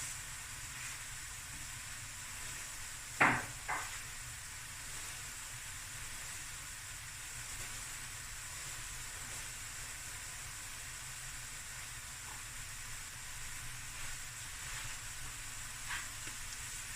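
Cooked brown rice stir-fries on high heat with a steady hiss and sizzle, a loud clank of a utensil early on and a few faint scrapes later, with no voices.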